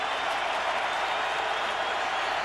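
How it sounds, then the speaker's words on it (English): A packed baseball stadium crowd at an ALDS playoff game, Yankees at Twins in Minnesota, keeps up a steady, dense roar of cheering and clapping throughout, with no break or swell. "Crowd trying to be the 10th player"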